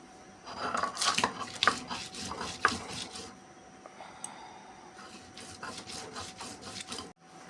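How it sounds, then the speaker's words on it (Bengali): Lentils and green chillies being ground on a stone, heard as close, rhythmic rubbing strokes, steady and repeated, with a brief pause midway. "এখন আমি ডালগুলো বেটে নিচ্ছি"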